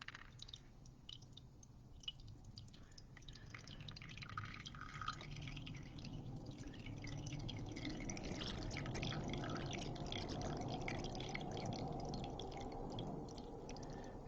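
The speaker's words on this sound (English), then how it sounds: "See the water coming in?" Water flowing into a container of water, with a soft trickle that grows into a fuller bubbling gush and scattered drips, quiet and close with no talking.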